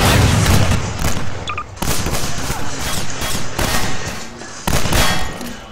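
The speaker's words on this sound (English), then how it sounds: "Jeff, I'm just shooting a whole one." Gunfire in the video game Garry's Mod: loud, close bursts of rapid shots in several volleys separated by brief pauses, with no talking.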